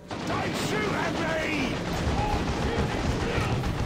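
Baneblade tank fire in Warhammer 40,000: Dawn of War 2: dense continuous rumbling booms and explosions forming a heavy roar of battle, with a voice talking faintly under the din.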